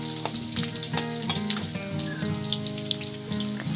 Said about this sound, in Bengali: এরপর গোটা জিরে সহ আর একটু সব কিছু মা ভেজে নেবে